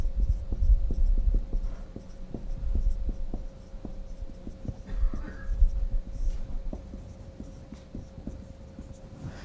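Chalk or marker scratches and taps across a lecture board in quick irregular strokes, close and fairly loud over a constant electrical hum.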